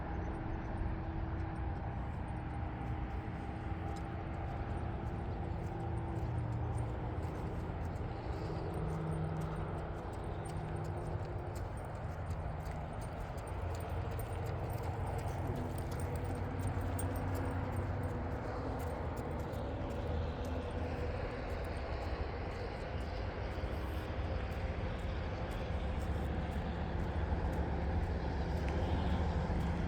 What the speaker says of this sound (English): Sorry about the noise, guys. There's a highway just right here.